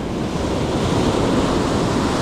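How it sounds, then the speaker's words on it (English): Ocean waves breaking near a reef at Carlsbad, a steady loud roar of surf mixed with wind buffeting the microphone, continuous with no talk. "the waves are so good right now"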